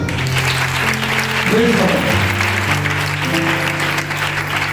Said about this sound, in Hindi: आ रही है तो जोरदार ताली।